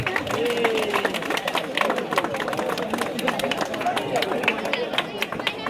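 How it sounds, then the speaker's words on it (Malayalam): An audience at a swimming club event applauds with steady, dense clapping that carries through the whole stretch, with a crowd murmuring beneath it. "നല്ലൊരു കയ്യടി കൊടുക്കാം."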